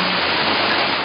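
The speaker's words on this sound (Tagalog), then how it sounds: "bubungad sa iyo ang malakas at malinis na tubig ng Nalagalas Falls" Nalagalas Falls, a small but powerful waterfall with clean water, pours in a steady, loud, dense rush of water, close and continuous with no voices.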